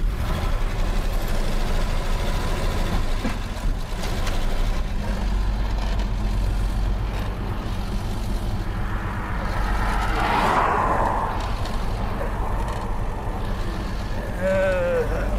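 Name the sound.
1976 AMC Pacer engine cranking and running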